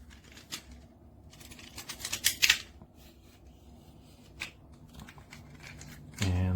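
An ALAFLY 4-in-1 magnetic selfie stick tripod being folded shut, giving a run of close, light plastic clicks and rubbing with a sharper cluster of snaps midway and a louder knock at the end.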